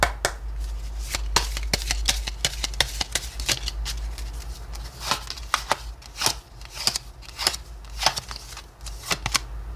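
Tarot cards are shuffled and drawn by hand in a close, continuous flurry of crisp riffling clicks and slaps, with no voices over them.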